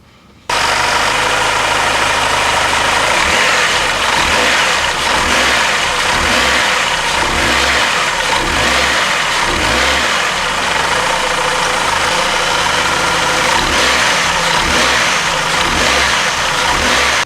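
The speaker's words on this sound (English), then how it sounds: "with the car in gear and then revving the engine" A Chrysler PT Cruiser engine revs repeatedly in gear during a motor mount inspection, a steady loud rumble rising and falling with bursts of acceleration over an idle, close by.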